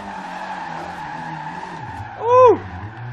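A Mitsubishi Evo VI rally build in Forza Horizon 2 goes sideways, its engine droning steadily before a short, loud tire squeal rises and bends in pitch near the end, about a third of a second long.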